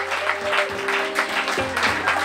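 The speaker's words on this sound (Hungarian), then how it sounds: "Jár a taps!" Audience at a fashion show claps in steady applause, with music tones running underneath throughout.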